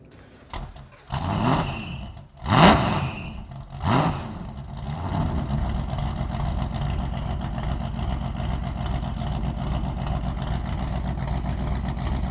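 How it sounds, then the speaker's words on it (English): A Ford Transit Supervan with a V8 engine barks through several loud revs close by, then settles into a lumpy, rumbling idle that runs on steadily. "Obviously it's loud and it's clearly V8, that we know."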